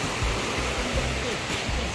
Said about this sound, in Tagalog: maingay na masyado yung ah, agos ng tubig sa ilog